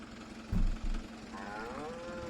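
Cattle mooing in Farming Simulator 22: a short, loud low moo with a second brief one, then a drawn-out higher moo fading into steady background hum.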